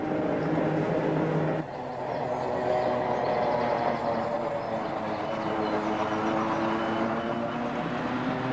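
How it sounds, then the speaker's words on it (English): An old tram rolls through a museum, giving a steady, loud rumbling and rattling ride noise with a brief dip near the start before the continuous clatter resumes. "There are not many museums which you can ride around in a tram."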